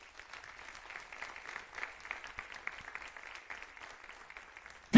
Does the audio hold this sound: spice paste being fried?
no